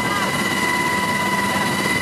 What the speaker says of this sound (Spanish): Escuchemos el sonido del helicóptero que me encanta.